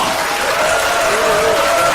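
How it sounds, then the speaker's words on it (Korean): Applause from the audience at a Daegu campaign committee event for a presidential candidate, a steady dense wash of clapping held loud throughout. "특별한 박수를 부탁드립니다."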